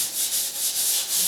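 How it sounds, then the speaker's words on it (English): Sandpaper rubbed back and forth across a painted door, a steady loud scratchy rasp with rhythmic strokes and no talking. "I don't want to sand too far."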